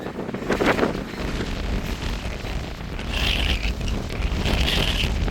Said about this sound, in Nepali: ओए कस्तो हावाले गर्दाखेरि यहाँ थिच्नै गाह्रो भयो वाउ कस्तो हावा चलेको